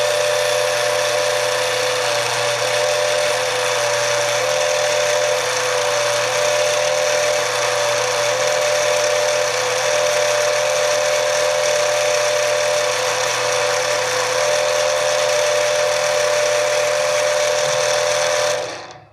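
A rotary drill steadily bores out a hole to 5 millimeters through a large chrysocolla stone bead, a continuous high whirring whine that runs unbroken for the whole stretch and stops abruptly at the end.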